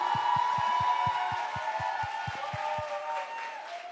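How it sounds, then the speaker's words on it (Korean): Churchgoers clap during a Sunday worship service, a soft spread of applause with a sustained musical tone beneath and a run of regular low thumps. "하나님 앞에 우리 가장 큰 박수로 영광을 돌립니다"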